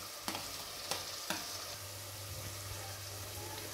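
Tomatoes fry with ginger-garlic paste in a pan, giving a soft continuous sizzle and three sharp spatula taps near the start, fairly quiet with no talking.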